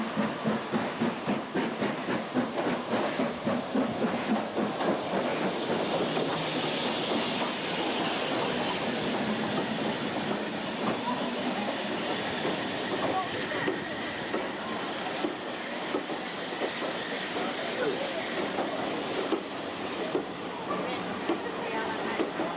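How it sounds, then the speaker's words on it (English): A southbound British steam locomotive heading toward Pickering rolls past close by, with continuous loud rushing, hiss and rapid rhythmic clatter of wheels sustained throughout, and a voice briefly heard over it. "We have a southbound locomotive headed down towards Pickering now."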